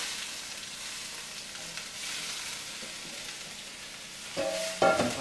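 Onions go into oil in a very hot frying pan, giving a steady, soft sizzle throughout with a few louder clatters near the end.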